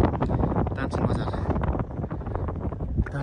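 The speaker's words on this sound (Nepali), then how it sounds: "एकदम मिठो हावा लगाइरहेको है।" Wind buffets the microphone on a hilltop in Palpa near a community homestay, a loud, rough, low rumble that is continuous throughout, with a person talking over it.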